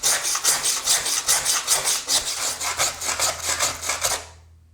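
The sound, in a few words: grout saw scraping grout from between tiles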